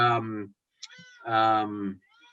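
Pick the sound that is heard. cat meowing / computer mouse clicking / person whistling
cat meowing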